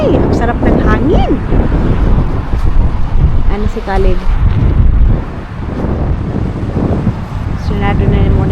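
Blustery wind buffets the microphone outdoors near a harbour, a steady low roar running under close conversation between several people.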